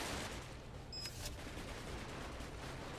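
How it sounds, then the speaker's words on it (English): Gunfire in the RTS game Cepheus Protocol, a dense steady crackle of shots with a brief sharper burst near the start, filling the whole stretch with no talk. "Tell him to shoot already."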